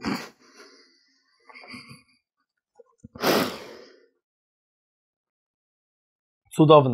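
A single short, sharp human sneeze bursts out loudly close by, between brief quiet talk.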